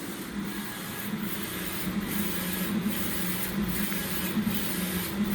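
A printer running through a design print job, a steady mechanical whir with soft rhythmic rubbing passes repeating about once a second, close and even, no talking.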